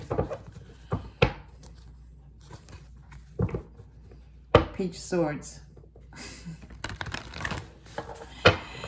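Tarot cards being shuffled by hand, giving a run of soft, irregular riffling clicks and snaps in short bursts, with someone talking between and over them.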